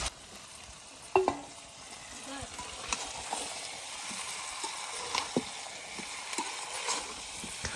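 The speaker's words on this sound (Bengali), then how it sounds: "দিয়ে ভালোভাবে নাড়াচাড়া করে কষাতে থাকবো।" Chicken with peas and potatoes stir-fries in a pan, a soft, quiet sizzle broken by irregular scrapes and clinks of the stirring spoon, heard close up.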